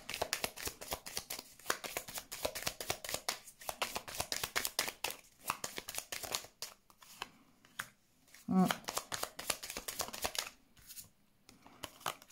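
Tarot cards are shuffled by hand in a quiet room, repeated soft riffling and slapping bursts in an uneven rhythm, with brief pauses between handfuls and a sharper snap near the end.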